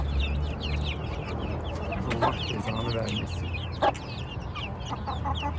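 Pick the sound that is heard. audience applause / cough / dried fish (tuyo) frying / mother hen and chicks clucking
mother hen and chicks clucking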